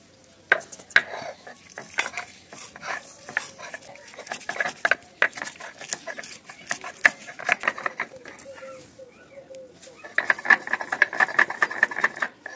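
Coriander leaves and green chili being ground by hand: close, rhythmic scraping and grinding strokes in uneven bursts, growing denser and louder toward the end.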